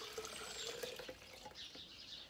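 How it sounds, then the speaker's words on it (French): Very hot filtered water pouring into a container for making gluten-free oat milk, a steady close splashing trickle heard alone. "vous mettez l'eau"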